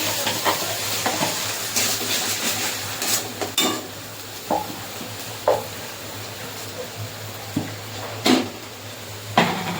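Close and fairly loud, a paste of two kinds of mustard, poppy seed, green chilli and coconut sizzles in a pan with fried onion. A utensil strikes and scrapes the pan in scattered, irregular knocks over the frying hiss.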